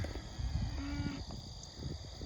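A cow on a pasture farm moos in a low, drawn-out call with a faint higher tone partway through, heard at moderate distance over rustling and handling noise, with no speech.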